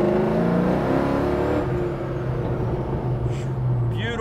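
An LS7 V8 engine in a 1969 Chevrolet Camaro restomod rumbles and revs steadily from inside the car, a deep continuous drone with shifting pitch, a voice briefly audible over it.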